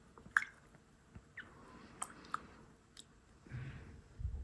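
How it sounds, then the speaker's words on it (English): Water runs and drips over hands being rinsed during a manicure, with soft splashes, squishy rubbing and a few sharp drips, fairly faint and close with no talking. "so I'm going to now rinse it."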